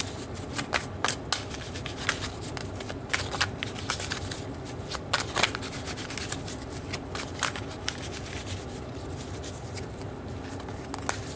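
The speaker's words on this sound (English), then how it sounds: "So let's pull some tarot cards to get more information." Tarot cards shuffled by hand in a steady run of crisp, papery riffles and flicks, close and fairly quiet, with no talking.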